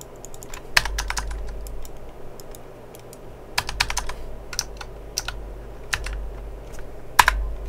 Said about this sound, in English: Bumped something on my keyboard.